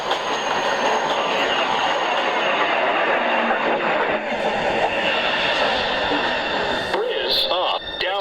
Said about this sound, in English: Train 2, approaching the station.